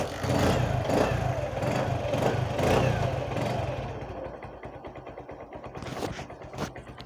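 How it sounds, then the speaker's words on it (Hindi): A Bajaj Platina motorcycle engine, freshly refitted, runs loud and close with a few revving surges, then drops to a quieter, lower idle, with a small blip near the end. "आपको इंजन का साउंड शायद अच्छे से सुनाई पड़ रहा होगा"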